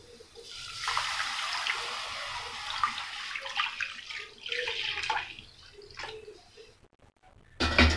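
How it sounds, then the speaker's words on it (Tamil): About 500 ml of milk poured into a creamy white pasta sauce in a pan, a continuous liquid rush and gurgle that lasts several seconds before tapering off, with a brief clatter at the end. "இப்போ வந்து நான் இதில் ஒரு 500 ml பால் ஆட் பண்ணுறேன்."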